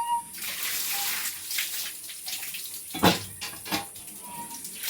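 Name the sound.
water washing taro stems in a bowl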